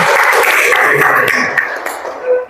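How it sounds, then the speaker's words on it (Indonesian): Listeners at a group presentation on Islamic marriage law clap in a brief burst of applause that thins out and fades within a couple of seconds, followed by a cough or stray noise. "kita kasih tepuk tangan untuk kelompok 1"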